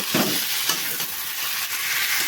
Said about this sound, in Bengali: একদম কচুটাকে ভালো করে ভেজে নেব